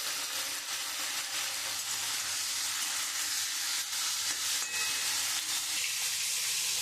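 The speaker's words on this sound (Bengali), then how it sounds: "আমি উচ্ছেটা ভাজা বসিয়ে দিয়েছি।" Bitter gourd slices frying in hot oil in a pan, giving a steady, close sizzle with faint stirring clinks for the whole stretch and no voices.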